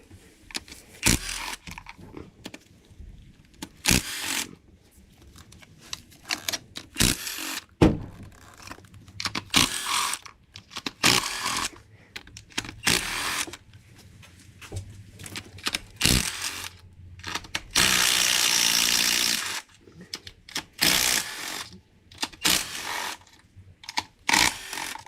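Ratchet loosening the valve cover bolts on a Ford Fusion engine, heard as irregular bursts of clicking and metallic clunks separated by pauses over about twenty-five seconds, close by with no speech.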